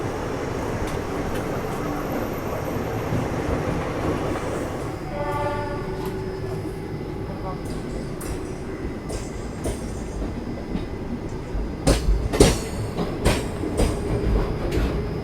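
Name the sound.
passing train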